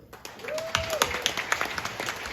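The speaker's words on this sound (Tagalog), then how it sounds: "palakpakan natin ang Alpha Care" Audience clapping for Alpha Care at a large gathering of Duterte supporters, sparse claps building into scattered applause, with a brief voice or whistle early on.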